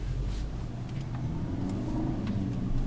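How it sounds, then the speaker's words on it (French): A manual car accelerates through the gears in city traffic near a roundabout, its mid-pitched engine droning steadily and close, with brief shifts and no talk. "Je débraye 2, j'accélère, je débraye 3, j'accélère"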